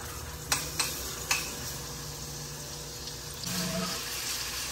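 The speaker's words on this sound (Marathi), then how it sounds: "सर्वप्रथम आपण टाकायचं आहे आले लसणाची पेस्ट." Ginger garlic paste sizzling in a hot pan, a steady soft hiss with a few sharp stirring clicks near the start and a louder, fuller sizzle toward the end; no one talks.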